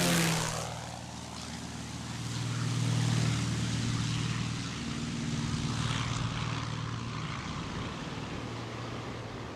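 A propeller airplane takes off from a remote island after being unloaded, its engine drone rising and swelling nearby, then slowly fading as it pulls away, with no voices.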